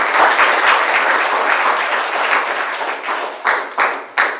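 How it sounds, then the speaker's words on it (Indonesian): A classroom group of students applauds a presenting group, giving dense, loud, close clapping that gradually thins into a few scattered final claps. "Beri aplaus yang meriah untuk kelompok A."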